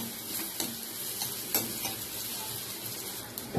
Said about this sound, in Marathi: आता कांदा चांगले मी भाजून घेऊ.